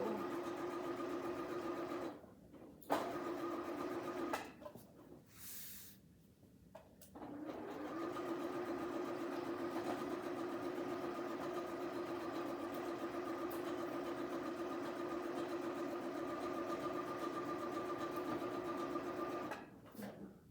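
A sewing machine back stitches the final seam of a pillow cover, humming in a steady mechanical drone that pauses briefly twice for the reverse, then runs smoothly and continuously, close and alone.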